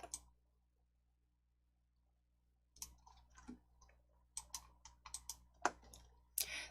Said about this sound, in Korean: 바꾸기 클릭